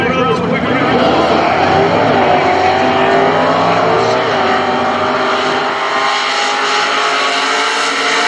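Top Fuel and Funny Car drag racers at the NHRA Southern Nationals at Atlanta Dragway roar down the track in a loud, continuous blast of engine noise that slowly fades, with an announcer talking over it.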